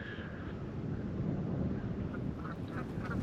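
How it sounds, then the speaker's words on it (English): Several brief bird calls, somewhat distant, over a steady wash of wind noise outdoors at Lake Blue Ridge, Georgia. "the only thing I hear is birds."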